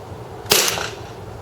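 A KWA NS2 MP9 gas airsoft gun fires a single sharp shot through a chronograph, a crisp snap with a short hissing tail, close and loud against a quiet background.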